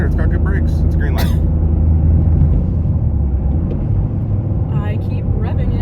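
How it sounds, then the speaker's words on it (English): A Toyota GR Corolla engine revs during a downshift, a loud, deep rumble that rises and falls inside the cabin, with people talking over it. "I keep revving it and I downshift"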